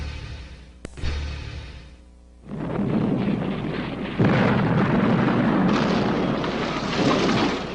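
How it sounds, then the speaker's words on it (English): An atomic bomb explosion erupts as a loud, deep roaring blast after a brief sharp crack, then rolls on as a sustained rumbling roar that swells again partway through. "When an atomic bomb explodes, it produces heat, light, and blast effects."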